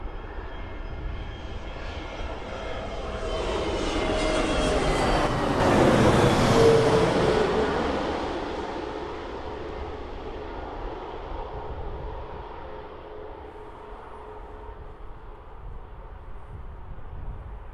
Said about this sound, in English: So that EasyJet Airbus, as you can hear, is on short final.